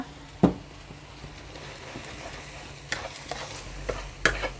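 Chicken stir-fried with glass noodles and cabbage in a pan, with a low steady sizzle under scattered spatula scrapes and a few sharp clacks, fairly quiet and close with no talk.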